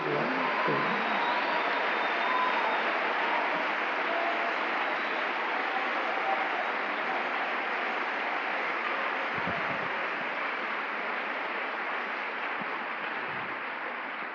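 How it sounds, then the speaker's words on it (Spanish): A church congregation claps for a preacher, a sustained wash of applause at even loudness that slowly tapers off over several seconds. "Otro aplauso para él, hermano."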